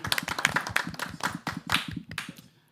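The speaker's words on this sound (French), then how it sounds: "Eh bah, on peut applaudir Yann." A small studio group claps for Yann, the control-room operator, on a French show. The claps are close, sharp and irregular, with a few voices mixed in, and they taper off near the end.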